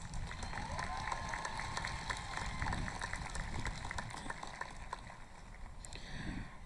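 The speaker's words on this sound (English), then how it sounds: "One more round of applause" A crowd applauds graduates at a high school commencement ceremony, giving a steady, moderately distant wash of clapping with faint cheering mixed in, easing slightly near the end.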